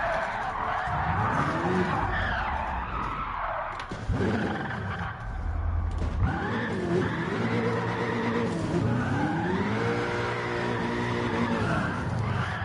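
A car drifts in Gran Turismo 7, its engine roaring and revving up and down while the tires squeal in long, wavering screeches through the corners, loud and continuous.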